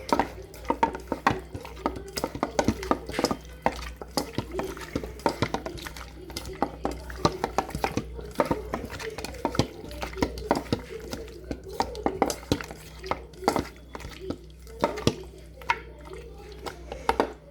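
A spoon stirs chicken curry in a pot with repeated wet, squishy scrapes and soft knocks against the metal, in an uneven but continuous rhythm, close and moderately loud.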